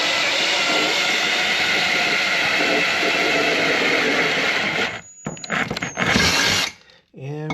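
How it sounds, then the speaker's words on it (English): A power drill bores holes to mount Goldfire highway pegs on a motorcycle, a loud, steady grinding drone for about five seconds before it cuts out into a few clattering bursts. "here I am drilling"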